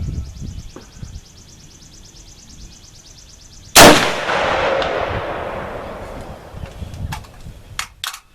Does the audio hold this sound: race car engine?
no